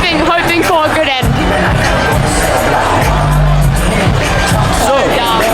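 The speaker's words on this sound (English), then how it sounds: "Have a good crowd and a good performance for the crowd" A rugby crowd at a Varsity Cup match between SU-Maties and UJ roars and cheers loudly in a stadium, with whoops and close voices talking and shouting through the continuous din.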